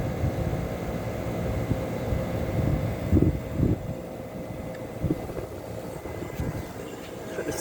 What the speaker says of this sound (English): Try to get a good compressor sound for you.